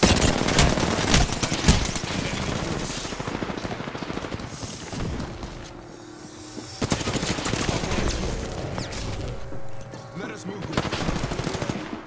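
Rapid bursts of automatic gunfire in a sci-fi shooter video game hammer densely and loudly, with a brief lull midway before the shooting resumes at full intensity.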